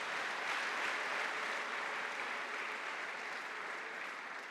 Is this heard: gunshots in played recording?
no